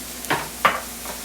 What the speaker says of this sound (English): Adding some more oil for the onions.